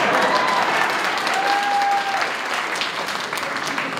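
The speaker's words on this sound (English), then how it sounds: "that deserves an applause" An inauguration crowd for a New York state senator breaks into applause, a dense, loud wash of clapping that fills the room and holds steady before easing slightly toward the end.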